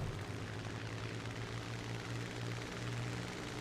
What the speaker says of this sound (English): he should have had landing flaps down a lot sooner to stop himself from overshooting